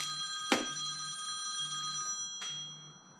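A telephone rings in a quiet workshop with a steady electronic tone, broken by two sharp bursts about two seconds apart, fairly close and alone with no talk.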